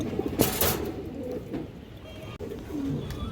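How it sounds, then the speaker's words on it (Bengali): A courting pigeon pair gives low, rolling coos close by, with a sharp flutter or bump early on and steady murmuring that continues to the end. "এই যে দেখেন এই পেয়ারটা মুস্তি করতেছে"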